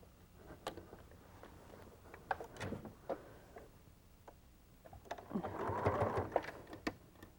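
A sewing machine stitches quilt seams on an eight-pointed Blazing Star block, running in short, faint bursts of rapid clatter with scattered ticks and handling noises, building to a longer, denser run near the end.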